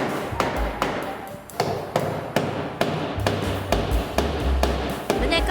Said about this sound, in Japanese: 胸カバーは前山釘を打っていきます。